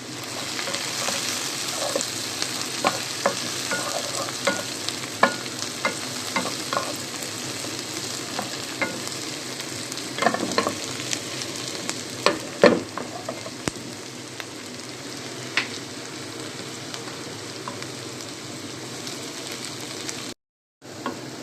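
Onion and small green chilies sautéing in a pan for Alexandrian-style fava beans, a steady close sizzle with frequent clicks and scrapes of a spoon stirring, no voices, cut briefly near the end.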